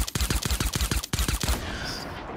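Rapid gunshots ring out in a fast, closely spaced string of about ten loud, sharp reports during a video game match, then the firing stops and a short reverberant tail fades out.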